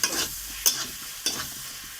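Spices for a jackfruit curry being fried in a pan, with a soft sizzle broken by three sharp scraping stirs of a spoon, close and brief.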